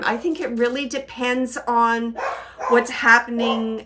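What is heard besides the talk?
dog barking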